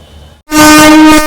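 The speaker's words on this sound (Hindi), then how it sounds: "अपनी हम सफर एक्सप्रेस को लगाई जा रही है सहरसा के 2 नंबर प्लेटफॉर्म पे" A Humsafar Express train horn sounds loudly at Saharsa station platform 2 as the train is brought in, a sustained blast following a quiet lull, close and dominant.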